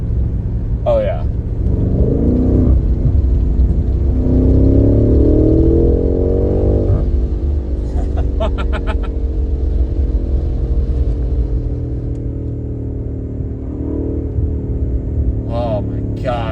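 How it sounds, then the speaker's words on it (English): A 2023 BMW M8 Competition engine revs loudly up and down, a deep rumbling roar rising in pitch in long sweeps and holding a strong drone, with brief chatter between pulls. "the engine sounds nice."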